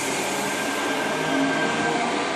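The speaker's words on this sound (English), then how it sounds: "we have a train on platform 3 passing" Sydney Tangara passenger train passing a station platform, a steady loud broadband roar of wheels and rails with a faint tonal whine, close and continuous throughout.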